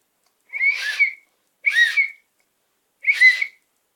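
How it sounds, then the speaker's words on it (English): Three short shrill blasts from a small toy whistle, loud and close, each lasting about half a second with brief gaps between them and no voices. "And we've got a whistle."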